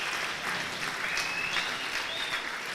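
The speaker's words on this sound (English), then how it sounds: "The crowd roars in approval." Squash match crowd at a semi-final of the Cape Town Squash Open applauding steadily, a dense, even patter of clapping with a few whistles, sustained and fairly close throughout.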